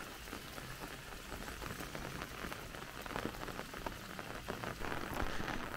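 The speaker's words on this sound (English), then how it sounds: "If it carries on raining like this, I might get some water down the canal." Steady rain falls outdoors near a canal, pattering densely on surfaces with a constant hiss and scattered sharper drips, with no voices.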